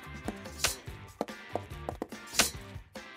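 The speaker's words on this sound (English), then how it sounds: "I can still animate a minifigure chopping up some bricks" Chopping sound effect for a LEGO minifigure hacking at bricks with a sword: a quick series of sharp, close chops and clacks in an uneven rhythm, with a couple of brighter louder hits.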